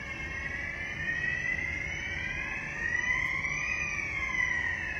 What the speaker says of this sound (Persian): این سیستم امرجنسیش که آژیر میزنه یه باگ داره